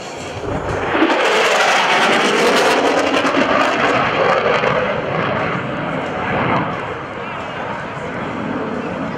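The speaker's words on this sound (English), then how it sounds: "Here comes the Super Hornet and the high-speed pass." An F/A-18F Super Hornet jet makes a high-speed pass at a military airshow, a loud, roaring broadband rush that swells quickly and holds steady before easing slightly, with an announcer talking underneath.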